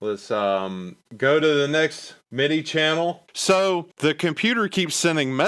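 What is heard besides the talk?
No distinct noise like a dog, phone or traffic.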